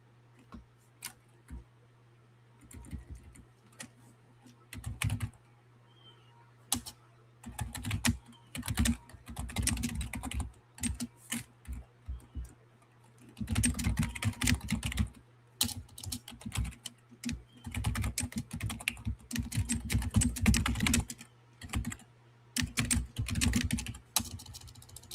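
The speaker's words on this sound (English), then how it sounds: "just typing out a response to something here, email" Fingers type on a computer keyboard while an email reply is written, with quick clusters of close key clicks broken by short pauses against a low steady hum.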